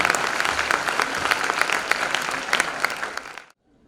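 Conference audience at a national readers' event in Pakistan gives sustained applause, dense clapping that keeps up for over three seconds before cutting off abruptly into silence.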